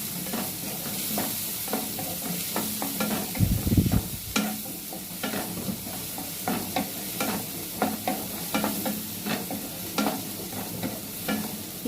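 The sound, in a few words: onions frying in a pan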